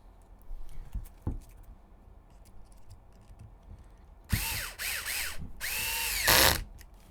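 Power tool driving a 14 mm flathead screw into an RC car chassis cross brace during a build, heard as two loud whirring bursts of a drill motor after some quiet handling clicks, with no talking.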